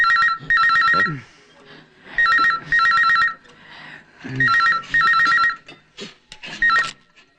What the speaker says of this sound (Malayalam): ഒരു കാര്യം ചെയ്യാം, ആ ജിമ്മ് വിജയനെ വിളിച്ച് പറയാം.